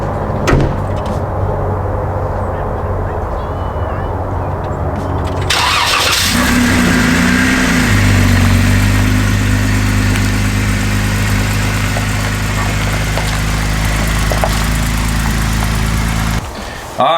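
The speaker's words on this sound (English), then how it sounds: "we moved the Jeep in here into the shop" A Jeep's engine starts and runs loud and close, rising into a droning rev and holding at a steady rumble before cutting off near the end, with clunks like a door at the start.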